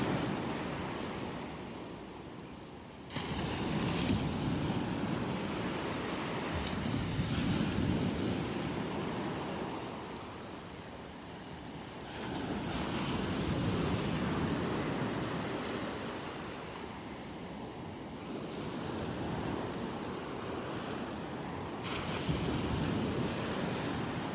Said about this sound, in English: I love watching those waves swell up